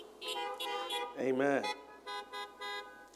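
Car horns honk at a drive-in church service, several short toots spread across the clip plus one longer, louder blast in the middle, with a voice briefly speaking.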